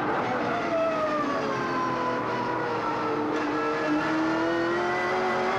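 A V8 Ford AU XR8 race car engine roars from on board while chasing another car, pitch rising and falling through gear changes, loud and continuous throughout.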